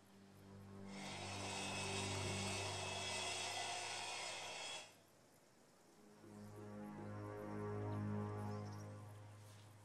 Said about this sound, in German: Jetzt schreddern wir das Holzauge.